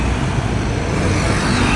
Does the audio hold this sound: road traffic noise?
yes